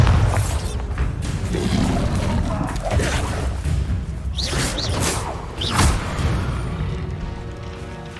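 Bombarda spells explode in Hogwarts Legacy combat, several heavy booming blasts with whooshes and debris crashes at irregular intervals, loud and close, mixed with game voices and battle noise.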